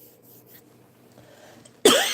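A single sharp cough bursts out near the end, loud and close, after a stretch of quiet background.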